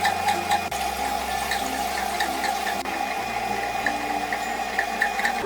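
Water is poured little by little into soaked dosa batter ingredients in a kitchen wet grinder, giving a quiet, uneven trickle and splash over a low mechanical hum.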